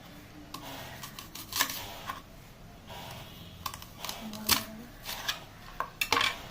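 A knife cuts two onions into thick rings on a board with a few sharp, irregular chops and clicks, close up, separated by quiet pauses and no speech.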